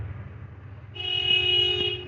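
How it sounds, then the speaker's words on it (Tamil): A vehicle horn honks outside, down below street level, in one sustained, steady toot that starts about halfway through over a low background hum. "கீழே அந்த ஹார்ன் அடிச்சிருக்காங்க."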